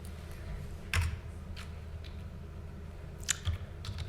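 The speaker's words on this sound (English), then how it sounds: "I'll just type it in again." Sparse, quiet keystrokes on a computer keyboard, a few isolated clicks spread over a few seconds against a soft background hiss.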